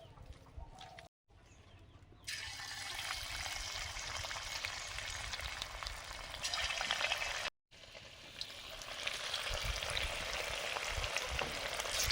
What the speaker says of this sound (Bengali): তেল দিয়েছি, এবারে চিকেনগুলো ভাজবো।